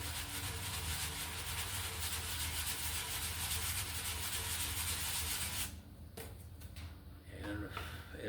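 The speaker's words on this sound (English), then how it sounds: "I'm going to start with some 180 grit and just get the paint off of it" Sandpaper of 180 grit rubs paint off a gauge lens for a 1957 Chevy dash, a steady close scratching that runs continuously for several seconds, then stops and gives way to a few short scrapes and handling noises.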